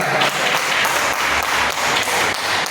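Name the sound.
congregation applauding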